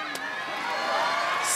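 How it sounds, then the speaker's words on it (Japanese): Wrestling fans cheer and roar steadily in a packed Sapporo arena during the Tanahashi and Okada entrance, a loud continuous crowd din with a commentator's voice over it. "岡田はショートタイツ姿、一つ一つの動き姿にファンから歓声が沸き起こります。"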